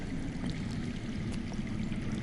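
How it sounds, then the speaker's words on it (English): Underground water flowing in a Game of Thrones video game, a steady, low rushing stream with faint trickles and no breaks, heard alone and fairly soft. "I hear water. From underground."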